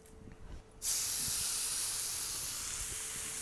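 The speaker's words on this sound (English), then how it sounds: "We wanna hear that sizzle, we wanna see the smoke, we wanna have this grilling." Quiet room tone, then a sudden loud hissing sizzle as a ribeye steak hits a hot grill pan, continuing steadily and easing slightly.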